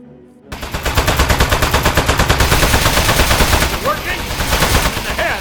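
Rapid automatic gunfire from Aperture Desk Job, rounds striking a metal target in a steady, loud burst that starts abruptly and runs on with metallic impacts and pings near the end.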